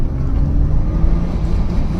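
A 2007 Honda Odyssey minivan engine under acceleration, with a problem that began after its valve covers were replaced, gives a loud, close, low rumbling drone that holds steady for a couple of seconds with no talk.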